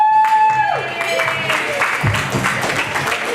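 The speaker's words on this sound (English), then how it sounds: "big round of applause. We can do better than that, ladies and gentlemen" Wedding guests break into a round of applause, dense steady clapping filling the room at moderate loudness, with a host's voice and a brief tone sounding over it.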